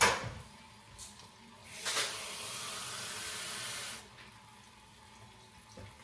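Water poured from a cup into a pot holding jaggery for sweet rice: a steady, close splashing rush lasting about two seconds, with quieter kitchen sounds before and after.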